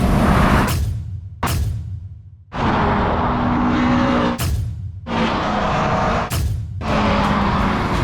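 Loud car engines roar and whoosh past in several quick bursts, separated by short gaps, as cars including a new Golf GTI drag race nearby.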